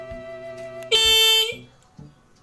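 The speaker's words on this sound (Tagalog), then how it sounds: "kapag inon natin siya, dire-diretso yung busina niya." A car horn wired as an anti-theft alarm blares in one short, loud blast, set between quieter background tones and faint bumps.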